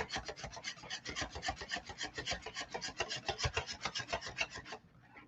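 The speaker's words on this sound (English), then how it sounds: "You got to do like really hard with the whisk I have." A whisk beating eggs by hand in a bowl for a glazed doughnut bread pudding, a fast, steady, close rhythmic scraping and swishing that stops just before the end.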